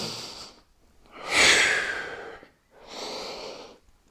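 Heavy breathing during a home dumbbell workout: three audible breaths, the middle one a louder, rough inhale, with short quiet pauses between them.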